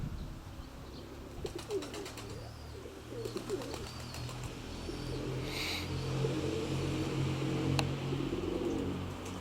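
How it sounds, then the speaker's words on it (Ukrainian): Pigeons coo softly at a distance, with bursts of fluttering wingbeats and faint background traffic. "Голуби літають."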